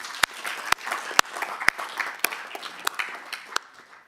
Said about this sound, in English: maybe a round of applause from everyone for our new councillor